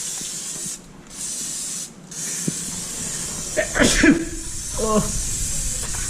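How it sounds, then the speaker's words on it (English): A short hiss of aerosol brake cleaner bursts out close by while cleaning a Mustang GT differential, with a couple of brief spray pulses and some clunks around it, a voice faintly underneath. "Spray it off a little brake clean"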